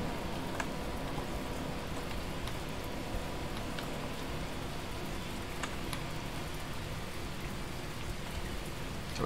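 Steady rain in the video game Signal Simulator makes a constant even hiss, with scattered droplet ticks and no voices.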